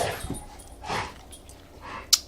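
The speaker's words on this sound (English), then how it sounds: "That's the pit bull." A pit bull whimpers indoors in a few short, soft whining bursts spread across a couple of seconds, close by, followed by a brief sharp tick.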